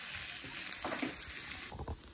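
Onion, green chili and curry leaves sautéing in a pan, a soft steady sizzle with faint stirring, quiet and close, no voices.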